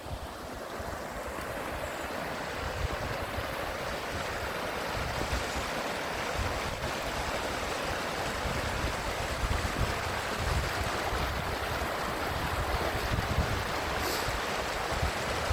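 River flowing beneath a bridge in the snowy Scottish Highlands in winter, a continuous loud rushing wash of water with some wind buffeting the microphone and no voices.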